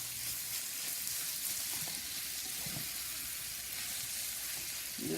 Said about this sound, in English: fry it, mix it up with the egg and fry everything at the same time